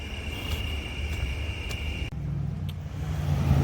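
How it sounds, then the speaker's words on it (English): A Chevrolet Camaro drives past on a downtown street at night, its engine a loud, rumbling roar that shifts in pitch midway and swells again toward the end. "And that's a Camaro."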